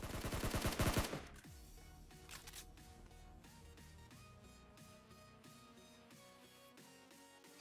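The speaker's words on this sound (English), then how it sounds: "So Jay now shooting towards team number 12, the zone brother" Gunfire in the PUBG Mobile battle royale game: a loud rapid burst of shots at the start, then a long series of sharper, quieter scattered shots and clicks.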